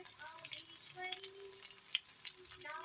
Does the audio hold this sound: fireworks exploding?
no